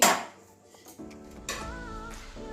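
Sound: pot lid being lifted off a cooking pot

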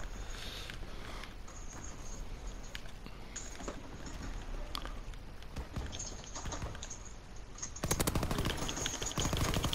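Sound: gunshots in Call of Duty WWII video game

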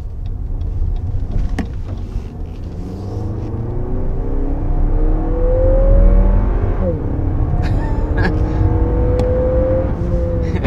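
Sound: 2022 Lexus NX 350 F-Sport accelerating in sport plus mode

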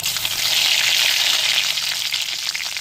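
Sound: mustard seeds and curry leaves sizzling in hot oil

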